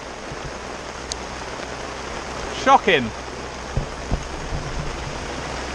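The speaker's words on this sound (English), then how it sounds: "It's hailing!" Hail pelting down outdoors at Furnace Lake during carp fishing, a steady dense hiss of pattering stones with a few louder knocks and a brief voice over it.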